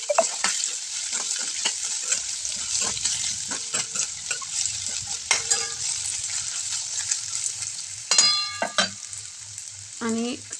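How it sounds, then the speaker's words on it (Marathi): Bottle gourd pieces stir-fried in hot oil for a quick vegetable dish, a steady close sizzle broken by frequent scraping stirs and a few clinks of the spoon against the pan. "त्या आपण आता तेलामध्ये छान असं परतून घेऊयात"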